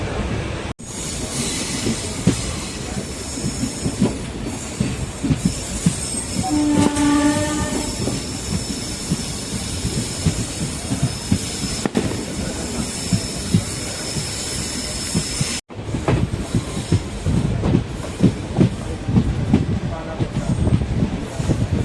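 Tiruchendur to Tirunelveli passenger train running loud and close, with continuous rumbling wheel noise, clattering rail joints and a brief horn-like tone midway, with voices faintly mixed in.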